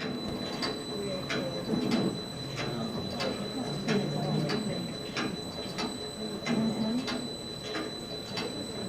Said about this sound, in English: That's that machine going very slow.